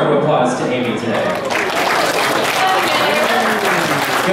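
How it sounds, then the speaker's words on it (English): An audience at a penguin feeding at the California Academy of Sciences claps loudly and continuously, a dense wash of applause with voices murmuring underneath. "give a big round of applause to Amy today"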